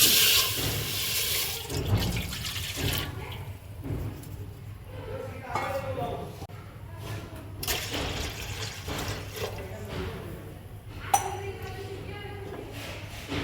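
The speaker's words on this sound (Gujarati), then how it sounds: "એમાં આપણે 2 ગિલાસ જેટલું પાણી મેળશું।" About two glasses of water are poured into an open cooking pot while preparing khandvi, a continuous splashing gush that is strongest at the start, with kitchen clatter and some background voice.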